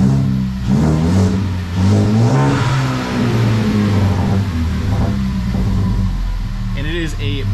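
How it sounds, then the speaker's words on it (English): An EcoBoost Foxbody Mustang on a new tune and ECU revs repeatedly, its engine pitch rising and falling close by, while people talk over it. "the car's much happier now, it revs much better."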